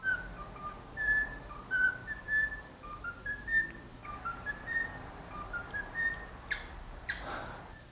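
A cockatiel whistles the Addams Family tune in clear, bright phrases, repeating rising and falling notes over a quiet room.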